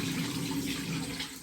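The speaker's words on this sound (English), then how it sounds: "Right, so I'm just gonna have another little rinse." Tap water running into a bathroom sink while a face is rinsed, a soft continuous splashing stream heard close and fairly quiet, easing off at the very end.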